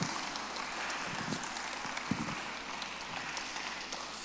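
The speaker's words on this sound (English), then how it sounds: "Please let's give him a round of applause as he goes to take his seat." A church audience at a young professionals' forum breaks into sustained applause for a departing speaker, a broad, even hiss of many hands clapping at moderate distance with a few sharper claps standing out.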